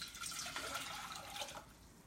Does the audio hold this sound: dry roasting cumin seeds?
no